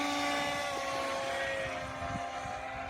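RMRC Anaconda RC plane in flight after takeoff, a continuous electric motor and propeller whine holding steady at moderate distance, gradually fading slightly.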